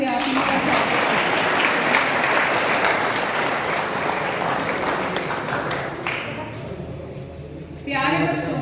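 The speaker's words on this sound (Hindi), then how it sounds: "एक बार फिर से जोरदार तालियों से आप इनका स्वागत करें।" Students and staff at a school farewell party in Bapora, Bhiwani clap loudly and densely for about six seconds, the applause thinning out before a voice starts speaking over a microphone near the end.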